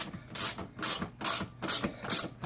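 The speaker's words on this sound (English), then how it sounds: "And then you just retighten the screws." Ratchet driver clicking in rhythmic bursts as screws are retightened into the plastic of a Tesla front light-up emblem, five close, crisp ratcheting strokes with short pauses between.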